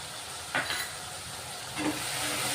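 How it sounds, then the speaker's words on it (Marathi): Ground spice paste fries in oil for a village-style fish curry, heard as a soft, steady hiss with two brief sizzling surges. The sound stays fairly quiet throughout. "आता तेल सुटेपर्यंत हे वाटण आहे ना आपण चांगलं परतून घेऊ बघा"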